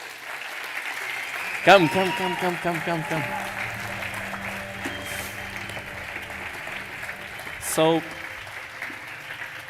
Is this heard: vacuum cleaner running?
no